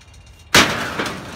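A sledgehammer strikes a wooden shed once with a sharp, loud crash of splintering and rattling debris, followed by a brief tail of clattering pieces, with no talking.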